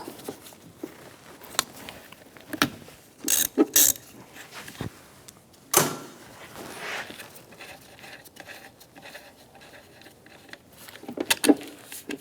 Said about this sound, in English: use a 13mm socket, loosen up this nut.